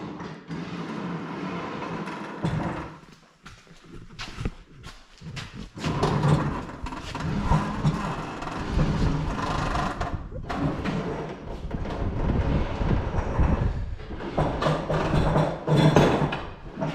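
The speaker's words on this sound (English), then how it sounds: "So should just be able to let the winch go, and it should wheel right in here." A 2022 Chevrolet Blazer rolls off a trailer as the winch line is let out, producing a continuous rumbling clatter with scattered thumps and creaks at moderate loudness.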